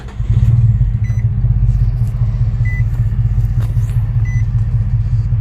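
A 2003 Infiniti G35 engine with a misfire, no power and extended crank catches and settles into a steady, loud, close idle rumble with a slight uneven pulse, joined by a few faint beeps.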